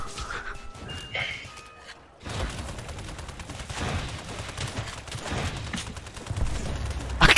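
Rapid bursts of gunfire from the World War II shooter Call of Duty: World at War, sustained spraying fire with dense overlapping shots that pick up after a brief quiet lull and stay loud throughout.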